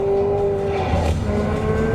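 A 2023 Chevrolet Corvette C8 Z06 engine roars loudly at close range, with a sustained high-pitched tone that shifts as the revs change.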